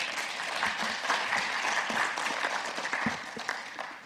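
Seminar audience at an ADB Korea host country event applauding to welcome the chairs, a full, sustained round of clapping with a few sharper individual claps standing out, no speech on top.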